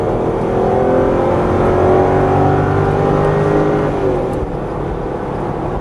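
A Range Rover's 4.4-litre Jaguar V8 revs up and holds a smooth, rising roar close by, then eases off toward the end.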